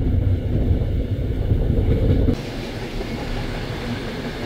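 A classic regional stopping train near Aachen rumbles past close by, loud heavy rolling and clatter for about two seconds before dropping to a lighter, receding rumble.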